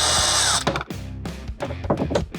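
A cordless power driver backs out 4mm screws from aftermarket turn signals on a Harley-Davidson Road Glide, a loud close whine at first, then a series of short stuttering bursts and ratcheting clicks.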